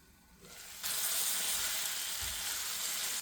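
Runner beans stir-frying in a covered pan give off a steady, loud sizzle that swells abruptly after a quieter start and then holds evenly, with no voices.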